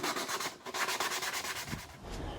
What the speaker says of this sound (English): And now I'm gonna sand it by hand to get inside those places I can't get with the sander.